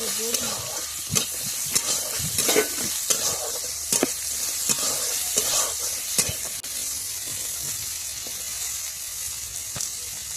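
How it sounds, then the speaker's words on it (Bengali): Oil sizzles loudly in a pan as carrot pieces fry, with repeated scraping stirs at irregular intervals over the steady crackle. "আমরা গাজরটা ভেজে নেব, এক এক করে দিয়ে গাজরটাকে ভেজে নেব।"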